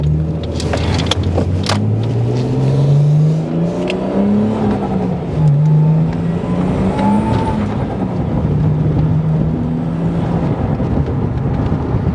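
Ford BA XR6 Turbo with T5 manual gearbox and LPG Barra engine revving hard on a dyno, loud continuous engine roar rising and falling in pitch with a whining, screaming edge and no voices.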